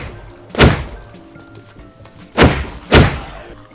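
Shotgun reloading in Minecraft: three distinct dull thunks, one early and two close together near the end, loud and close over a quiet background.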